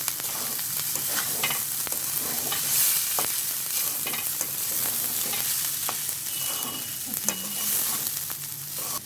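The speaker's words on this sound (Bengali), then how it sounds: "এখন ডাল চালটা ভালো করে আমরা কষিয়ে নিচ্ছি" Steady sizzling and scraping as lentils and rice are stirred and fried in a hot pan, continuous and close, with no talking.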